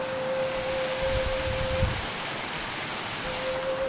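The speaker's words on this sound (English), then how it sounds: "still raining" Steady rain falls at Tintagel Castle on the Cornish coast, a broad even hiss throughout with a faint continuous tone running beneath it and no talk.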